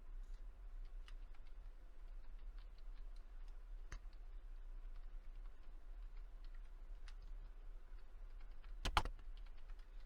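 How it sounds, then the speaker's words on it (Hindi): Keys on a computer keyboard are typed in quick, scattered clicks while someone enters a short hello world program; the taps are faint and close against quiet room noise, with one louder cluster near the end. "तो मैं फटाफट से हेलो वर्ल्ड का प्रोग्राम टाइप कर लेता हूँ।"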